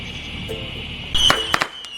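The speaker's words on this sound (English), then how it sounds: "the chickens are shooting off fireworks" A few sharp fireworks pops and crackles go off near the end, set against a steady buzzing drone of cicadas outdoors.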